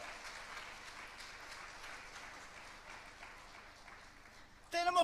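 Congregation applause in a church during a sermon, a steady, fairly faint wash of clapping that runs throughout before a voice cuts in near the end.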